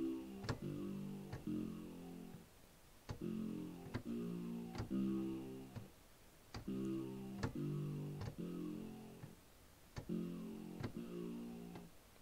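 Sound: sawtooth synth sound made with Vital synthesizer

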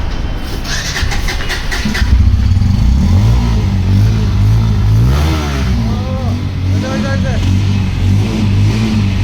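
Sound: Bajaj Pulsar N160 motorcycle engine revving

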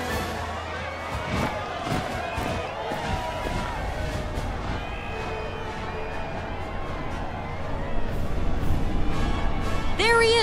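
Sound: cheering crowd at a parade in Final Fantasy VII Rebirth video game

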